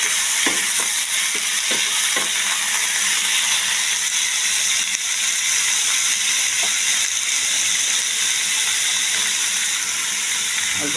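Cucumber frying in oil with ginger for shukto, a constant loud hiss of hot oil with a few faint clicks and knocks underneath.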